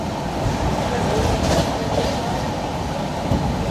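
Nizamuddin–Ernakulam Duronto Express running at about 110 km/h on the Konkan Railway, heard from inside as a steady, loud rumble with rhythmic wheel clatter over the rails throughout.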